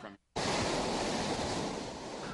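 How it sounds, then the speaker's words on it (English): Heavy ocean surf pounds a beach during Tropical Storm Bonnie: after a brief quiet moment, a loud, steady wash of crashing waves and roaring water takes over and continues without a break. "Throughout the day, the surf kicked up"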